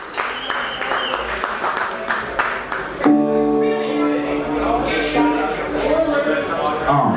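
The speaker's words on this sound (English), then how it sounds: "Give it a round of applause for Mr." Audience applause at a jazz trio performance, a few seconds of scattered clapping that gives way to sustained tonal music starting midway, with the clapping thinning beneath it.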